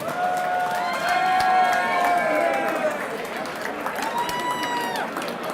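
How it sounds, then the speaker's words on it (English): A crowd at a white collar boxing event in London cheers and applauds after a knockout, a steady roar of voices and clapping with shouts rising above it throughout. "One more time, a big round of applause for both of these men"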